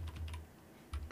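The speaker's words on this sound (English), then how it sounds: "we need to type in Streamlit" Keystrokes on a computer keyboard as a command is entered in a terminal: a quick cluster of clicks, a pause, then another keystroke, close and fairly quiet with no talking.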